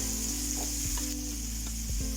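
Steady sizzling of bitter gourd frying in a pan, with a few soft stirring scrapes and a constant low hum underneath.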